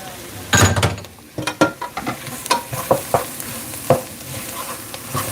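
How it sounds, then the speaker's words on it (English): A spoon stirs freshly added stock through a thickening soup in a pot, giving soft scraping strokes and clinks against the base with a faint sizzle underneath, close and fairly loud, with no talking. "Just keep giving it a nice mix. You don't want it to burn at the bottom"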